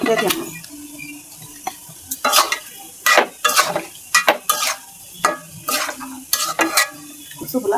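Taro pieces for a hilsa curry are stir-fried in a hot pan, with a steady sizzle and repeated scraping strokes of a spoon against the metal, some sharp clinks standing out.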